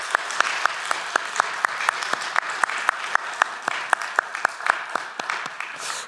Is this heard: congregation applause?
yes